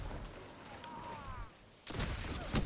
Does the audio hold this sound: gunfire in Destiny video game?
yes